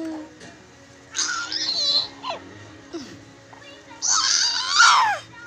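A baby shouts and cries in loud, high-pitched bursts separated by quieter whimpers, close by, with an adult voice talking in between.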